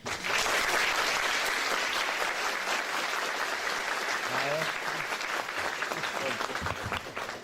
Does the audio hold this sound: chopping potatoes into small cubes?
no